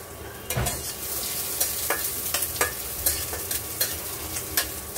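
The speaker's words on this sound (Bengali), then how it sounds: "তো দেখো, পেঁয়াজটা রসুনটা দিয়ে দিচ্ছি।" Onion and garlic fry in a hot pan while a steel spatula stirs them: a steady, close sizzle runs throughout, punctuated by repeated sharp scraping clicks of metal against the pan, with no talking.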